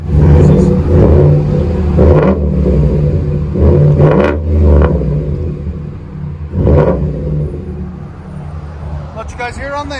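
A 2020 Ford F-150 with the 5.0 Coyote V8, resonator kept, rest of the exhaust deleted and a dual-tip side pipe, revs in several loud, close bursts over a rumbling idle, with voices at times.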